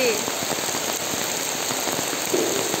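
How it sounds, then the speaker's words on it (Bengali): A steady, heavy downpour hisses and patters on surfaces close by, a continuous dense roar with occasional louder drops and a faint voice. "সকাল থেকে ঝিমঝিম করে হচ্ছিল, এখন একদম ঝমঝমিয়ে নেমে গেছে"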